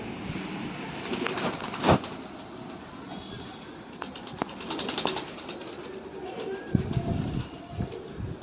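Loft pigeons coo softly at close range in a busy coop, with wing flutters and a few sharp knocks among the low, throaty calls.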